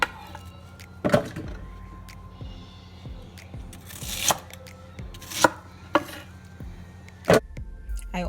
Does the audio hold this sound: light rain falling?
no